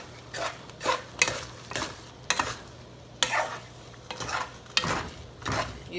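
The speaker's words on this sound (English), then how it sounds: "So let's let this cook, let it simmer, and then we'll add our honey." A pot of homemade baked beans simmers quietly, giving irregular soft bursts of bubbling and plopping about every half second, heard close with no talking.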